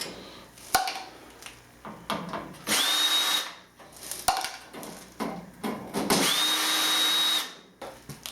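A power screwdriver backs screws out of a Pace digital receiver in short whirring bursts, with clicks and small plastic and metal handling knocks between runs, close up.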